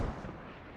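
Artillery fire in the military shooter Squad, a heavy low rumbling boom that swells at the start and rolls on steadily through the short stretch, with no speech over it.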